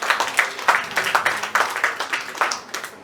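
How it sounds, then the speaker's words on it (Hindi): An audience at a literary felicitation ceremony claps in a steady, fairly sparse rhythm of distinct hand claps, close and clear with no speech over it. "कृपया इनके लिए ताली बजाइए।"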